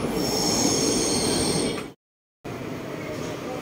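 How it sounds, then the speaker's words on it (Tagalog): A train pulls into a station in Korea with a loud, close rumble and squealing wheels, a short silent break, then more steady rail noise. "Ayan na yung train."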